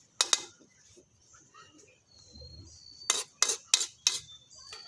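A utensil stirs food in a pot, with a couple of sharp metallic clinks early, quiet scraping in between, and then four bright clanks in quick succession near the end.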